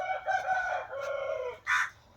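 A rooster, a Black Knight cross from a Peruvian breeding line, crows one drawn-out call with a brief second burst at the end, close and clear over quiet farm background.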